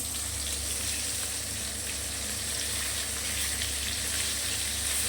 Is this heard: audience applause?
no